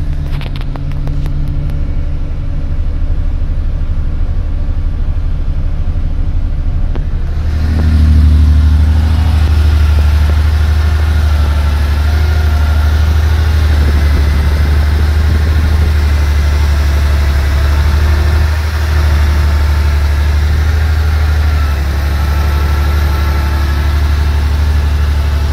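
Porsche 911 SC engine cold-starting at about seven seconds after a quieter opening, then settling into a loud, steady, low idle rumble that continues close and unbroken to the end.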